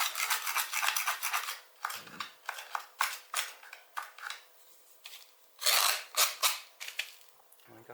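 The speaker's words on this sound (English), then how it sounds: "I might just sort of scrape this back." Rough scraping and rasping on a cast concrete lamp as it is fettled back, in short irregular strokes with pauses between, close and fairly loud, alone without talk.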